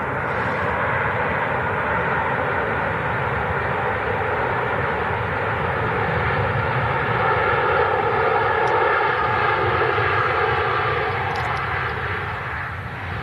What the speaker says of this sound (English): that's a top-notch landing